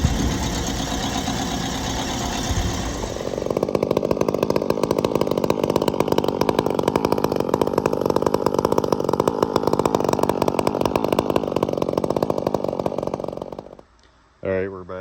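A ported Stihl 500i chainsaw runs close by, starting rough, then settling into a loud, sustained high rev that holds before cutting out abruptly near the end, followed by a brief final burst.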